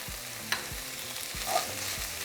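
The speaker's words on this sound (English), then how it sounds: "We're just going to saute it for about 3 minutes." Half an onion sizzles in oil with meat while a spoon stirs it, a steady fry with several low scraping strokes and clicks, close and fairly loud with no talk.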